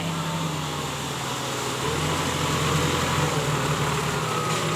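Ford 7740 tractor engine running in a flooded paddy field, a steady low droning rumble with a broadband hum that grows slightly louder midway, continuous and fairly close with no talk.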